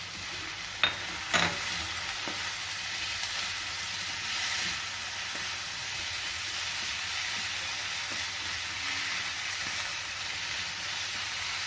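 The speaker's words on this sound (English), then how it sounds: "Again, continue to saute the vegetables." Corn, green peas and other vegetables sauteing in a pan for a Mexican enchilada filling, giving a steady soft sizzle throughout with a couple of faint clinks near the start.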